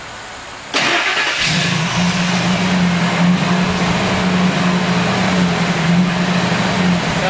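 A Ford Triton engine with a new spark plug and coil fitted after a blown-out plug starts abruptly and runs at a steady, loud idle with a low, even hum close by.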